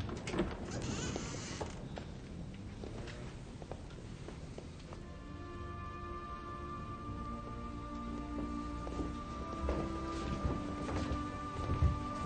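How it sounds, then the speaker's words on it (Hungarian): Steady rain hisses over a low rumble of thunder as a storm approaches, with occasional creaks and dull impacts and a faint sustained tone coming in partway through; no voices are heard. "Úgy tűnik, vihar készülődik."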